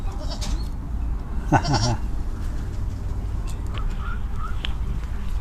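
A single short, high bleat from a baby goat in a village rings out over steady outdoor background noise, with faint chirps afterward.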